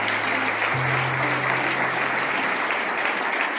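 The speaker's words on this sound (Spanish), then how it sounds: "Así que un fuerte aplauso para Alfonso." Strong applause fills a school graduation ceremony hall, a steady unbroken wash of clapping from a large audience, loud and continuous with no voices over it.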